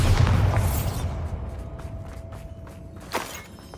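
Bombarda blasting spell in Hogwarts Legacy: a deep boom opens loudly and rumbles away, followed by scattered debris clatter and a brief sharp crack near the end.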